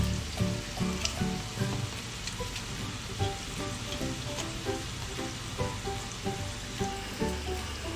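Lavang lata sweets frying in hot oil give a steady, dense sizzle with fine crackling pops spread evenly through the whole stretch, no voices over it.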